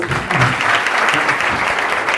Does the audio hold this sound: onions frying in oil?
no